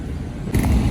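Heavy city traffic in central Jakarta rumbles nearby, a low vehicle drone that swells suddenly as a car passes close, with no talk.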